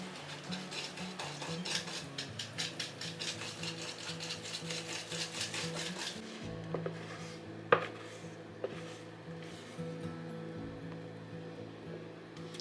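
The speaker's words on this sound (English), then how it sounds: "I just poured the batter into the pans." Cake batter is scraped and poured from a bowl into baking pans with rhythmic utensil scraping and occasional clinks against metal, faint and close.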